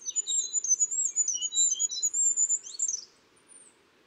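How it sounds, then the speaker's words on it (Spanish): A goldcrest gives a very high, thin, sibilant hissing call as a rapid run of fine notes, fairly close and clear, fading near the end. "el sonido más agudo, más sibilante que encontramos entre las aves europeas es el siseo de los reyezuelos"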